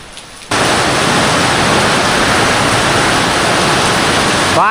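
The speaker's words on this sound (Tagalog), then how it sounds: "Sobrang lakas ng ulan." Very heavy rain starts abruptly and keeps up as a dense, steady, loud hiss, pouring down with no voices.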